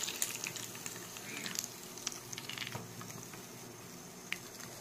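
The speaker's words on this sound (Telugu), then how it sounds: "ఇలా కర్రగా రావాలండి, సౌండ్ వస్తేనే చక్కగా పోపు అంటినట్టుగా ఉంటుంది" Tempering spices for moong dal crackle and spit in hot oil, a dense close sizzle scattered with sharp pops and crackles, fairly quiet and with no talking.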